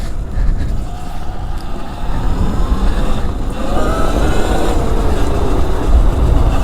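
A Surron X electric dirt bike spins its wheel at full throttle, giving a loud, continuous whirring roar with rising tonal whine and rough gravelly noise, close and sustained for several seconds.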